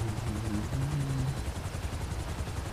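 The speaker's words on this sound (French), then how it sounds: "je reste en haut pour pas que l'hélico despawn" Helicopter hovering in the GTA video game, a steady close rotor chop with rapid rhythmic pulsing and a low droning engine, filling the whole stretch without talk.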